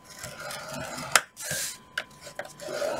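Paper scored on a scoreboard for a candy bar box, heard as soft dragging rubs and a few sharp clicks and taps at close range.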